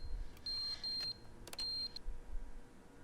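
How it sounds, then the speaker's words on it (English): A video game's electronic beep, a steady high tone repeating in several sustained bursts of roughly half a second each, standing out clearly over a low background hum. "that beep's annoying"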